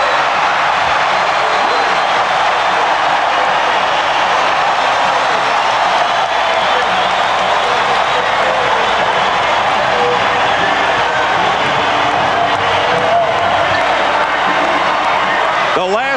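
A large indoor crowd roars and cheers continuously, a dense, loud wash of voices and applause that holds steady throughout.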